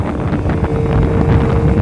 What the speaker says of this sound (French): Il vente, là, fait que ça ralentit tout seul, là.